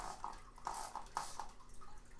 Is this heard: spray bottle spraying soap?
yes